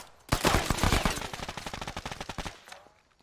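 Automatic gunfire in the military video game Arma 3, a loud close burst of rapid shots lasting about two seconds, then fading out.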